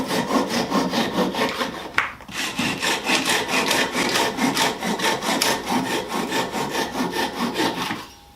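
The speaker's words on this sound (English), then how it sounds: "cut them there with the Japanese pull saw" A Japanese pull saw cuts through wood while making a beginner's jewelry box, sawing off the lid. Close, fast, even rasping strokes repeat steadily for several seconds, with one brief hitch partway through, and no voices.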